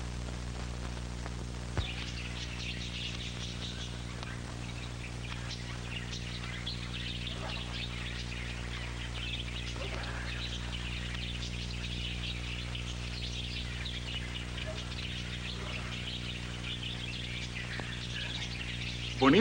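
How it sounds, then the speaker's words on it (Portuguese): Birds sing and chirp faintly over a steady low hum, with scattered short tweets spread across a long stretch and no talk. "Bonitos? Belíssimos pássaros, não acha?"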